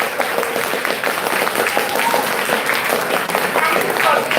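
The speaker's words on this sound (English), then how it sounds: "may I please request everyone to join in giving a big heartfelt round of applause to all our incredible teachers" Steady, sustained applause from a school assembly audience honouring the teachers, a dense wash of many hands clapping at an even level, with faint voices and whistle-like tones mixed in throughout.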